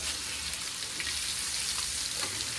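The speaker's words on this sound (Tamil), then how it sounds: "இப்ப வந்து சூர மீன் ஃப்ரை பண்ணிட்டு இருக்கேன்" Sura (shark) fish frying in a pan, a steady dense crackling sizzle that runs without a break at an even level, with no voices.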